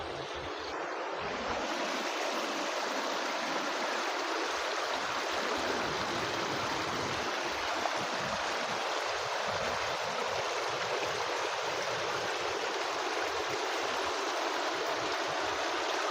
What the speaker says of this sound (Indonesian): Air bah atau banjir bandang kadang suka datang tiba-tiba di aliran Sungai Cimandiri